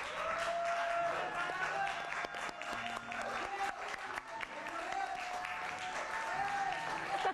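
A studio audience applauds in sustained, dense clapping that stays loud and even for the whole stretch, with a few voices heard faintly underneath.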